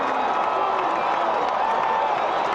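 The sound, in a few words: crowd of Yankee fans cheering in OOTP baseball video game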